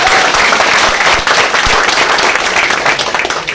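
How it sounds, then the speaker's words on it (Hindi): Loud, dense audience applause fills the hall at the Wonder World opening in Bhagalpur, a steady wash of many hands clapping throughout, easing slightly toward the end. "एक बार उनके लिए जोरदार ताली बजा दीजिए"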